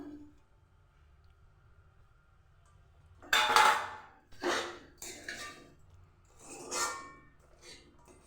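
Cherries, some cut lengthwise and some into rounds, dropped into kosha pulao in a pot, giving a few soft clinks and scrapes of utensil against pot after a quiet start.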